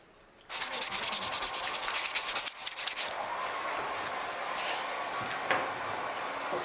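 Steady rasping of sandpaper rubbed back and forth along the grain of wood for a monitor stand, close and continuous after a brief quiet start.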